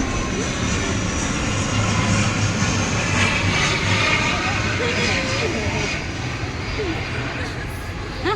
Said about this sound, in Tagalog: May aeroplano.